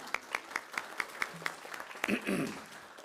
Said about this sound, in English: She deserves a round of applause, because second to none.